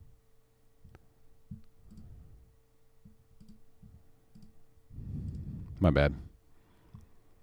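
Computer mouse clicks come in short, scattered bursts, sometimes single and sometimes quick doubles, close by and fairly faint, with someone briefly speaking over them partway through.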